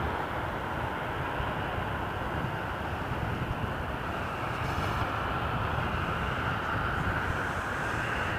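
Porter Airlines Embraer 195 E2 airliner taking off at Toronto Pearson Airport, a steady, broad jet engine roar that holds constant and fairly distant throughout.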